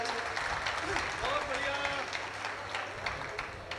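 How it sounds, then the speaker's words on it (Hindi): Audience applause at a Hindi humour and poetry event, a broad steady wash of clapping over several seconds, with a voice talking over it. "तालियां सबकी नहीं आ रही अभी भी एक साथ"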